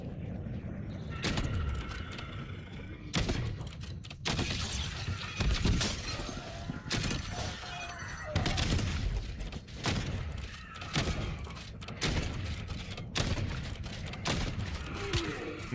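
Gunfire in Call of Duty, a fast-shooting weapon in an online match, with bursts of sharp shots and shattering impacts, loud and close, repeating in rapid clusters over game ambience.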